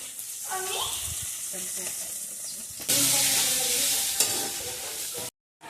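Food frying with salt and turmeric in a pan, giving a loud steady hiss and sizzle that surges stronger midway, with stirring scrapes and a voice talking over the start before a sudden cut to silence.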